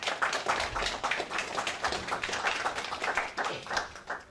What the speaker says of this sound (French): Je vous demande donc d'applaudir notre secrétaire général